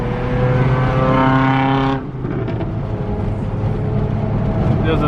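A car engine roars loudly and close, holding a strong steady note before the pitch drops sharply and the revving picks up again, as cars gather for a street race.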